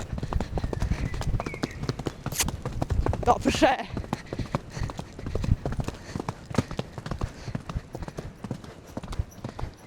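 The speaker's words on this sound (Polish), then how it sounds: "Jeny, w tym siodle to ja w ogóle mogę galopować." A horse galloping under a rider in the saddle, hooves drumming a fast, steady clip-clop rhythm close by, with the rider talking over the hoofbeats.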